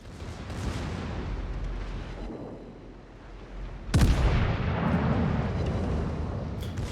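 Secondary guns of the King George V battleship firing in World of Warships, rumbling gunfire that swells, dips, then a sharp loud blast at about four seconds followed by sustained booming, no talk.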